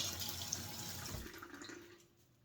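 Lukewarm water runs steadily from a tap onto gauze torn for cleaning a wound. The flow hisses softly and then fades out, with no voices.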